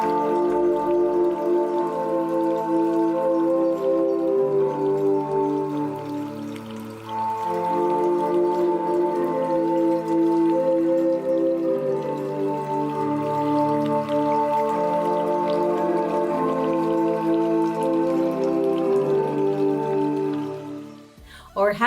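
Music made with water and a pipe, a run of pitched, bubbling tones that shift in steady melodic steps, continuous and fairly loud, with no talking over it.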